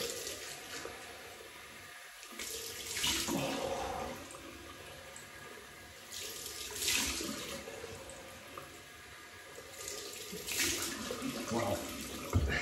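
Cold water runs from a tap in a steady splashing stream, with louder gushing surges every few seconds.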